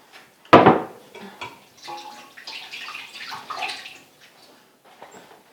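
A small splash of water is poured into the bottom of a pan holding fatty, sinewy leftover roast trimmings, beginning with a sharp hit and then trickling and sloshing in short uneven bursts, close and moderately loud.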